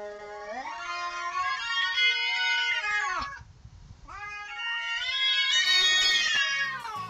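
Two cats meowing with heavy autotune pitch correction, producing long sliding, stepped harmonic wails that sound sung; two drawn-out phrases split by a short pause, loud and close with no talk.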